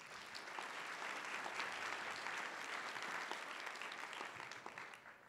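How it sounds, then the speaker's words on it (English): Sustained applause from a conference audience at an economic development talk, steady and fairly loud throughout, with no talking over it. "Can you give her a round of applause?"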